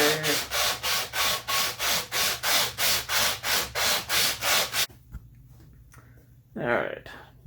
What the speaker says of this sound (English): now that the handle's been mostly smoothed out